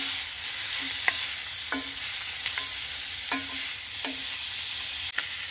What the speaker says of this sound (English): So I am just browning here,